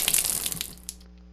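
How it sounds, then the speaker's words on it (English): In the video game The Last Door, water drains through an opened valve with a brief rushing, gurgling splash that quickly fades out. "When I open the valve, I will drain the water until all of the water has been"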